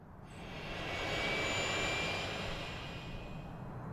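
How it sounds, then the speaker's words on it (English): A distant aeroplane drones overhead in the city-building game Workers & Resources: Soviet Republic, a faint steady engine rumble with a thin jet whine that swells and then slowly fades. "I believe that there would be aeroplanes taking people into work here"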